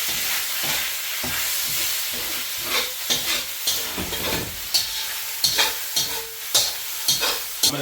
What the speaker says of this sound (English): We're gonna take the noodles in and really fry them